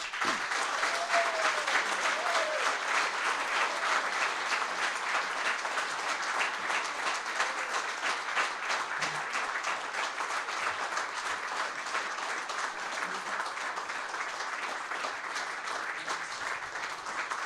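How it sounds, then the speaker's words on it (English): Audience at the 2016 Indiana Libertarian Convention gubernatorial debate giving a candidate sustained applause, dense continuous clapping filling the hall at an even level throughout, with no talk over it. "Please, a big round of applause for Mr. Rex Bell."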